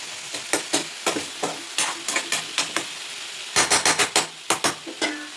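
Onions frying in a pan: a steady sizzle under repeated rhythmic scraping strokes of a spatula stirring against the pan, close and clear, with a quick flurry of strokes toward the end.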